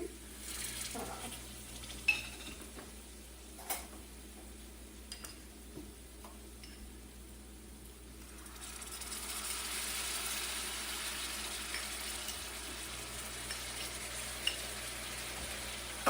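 Garlic and ginger fry in a pan for bhindi masala, with a soft sizzle under scattered clicks and taps of stirring; the sizzle swells and brightens halfway through, and nobody speaks.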